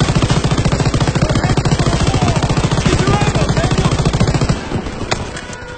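Sustained machine gun fire in a World War II Call of Duty game on PC, a loud, rapid, evenly spaced burst that runs for several seconds before cutting off.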